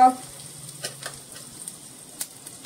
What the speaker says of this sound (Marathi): तेल तापलंय. आता मिसळवाण्याच्या डब्यातलं हे चमचाभर राई टाकली. ही छान तडतडली